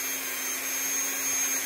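Buffing wheel polishing a polymer clay pendant, a steady motor whine with a high-pitched hum, constant and fairly loud, with no talking.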